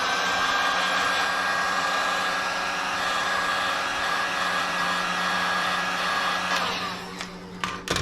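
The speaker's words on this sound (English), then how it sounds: "let's apply some heat to it to loosen up the glue" A heat gun blows steadily on the front bumper of a C5 Corvette to loosen glue, a loud, continuous close whoosh that ends with a few clicks and knocks.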